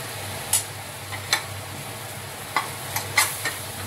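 Mixed vegetables fry in a pan for a bread biryani, a constant low sizzle punctuated by several sharp spatula scrapes and clacks as they are stirred.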